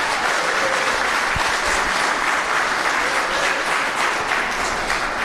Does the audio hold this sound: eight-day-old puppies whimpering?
no